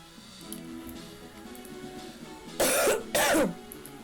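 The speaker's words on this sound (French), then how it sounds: "Ah oui, alors je tousse hein" Two quick, loud coughs close to the microphone near the end, over a low steady background hum.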